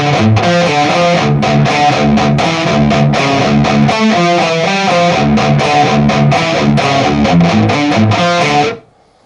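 Distorted electric guitar plays a riff of palm-muted downstrokes at a slow tempo, chugging loudly and evenly before ringing out and stopping abruptly at the end.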